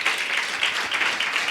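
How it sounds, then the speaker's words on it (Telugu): A church congregation claps during a Sunday service, a continuous, fairly loud rattle of many hands with no clear pauses. "క్లాప్స్ కొట్టి దేవుని మహిమపరుద్దాం."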